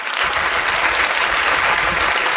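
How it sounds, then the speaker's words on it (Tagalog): Audience applause fills the space with steady, dense clapping, loud and continuous throughout with no voices over it. "dapat dyan pinapalakpakan."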